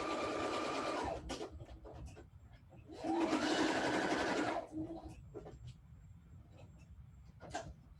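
A sewing machine stitches quilt binding in two loud steady bursts of about a second and two seconds, separated by quieter handling and shuffling of fabric.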